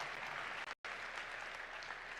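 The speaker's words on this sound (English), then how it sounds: "let's hear a round of applause for Michael and all his hard work" A crowd claps for the organizer at the opening ceremony of a Missouri state robotics championship, a dense steady applause with a brief gap before it resumes.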